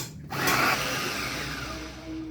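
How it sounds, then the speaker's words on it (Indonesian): An electric blender chopping chili peppers whirs up to speed and runs steadily, its motor droning loudly and evenly. "Ini saya mau blender cabenya dulu."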